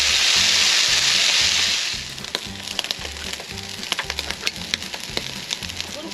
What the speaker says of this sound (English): Let them sizzle away for a bit.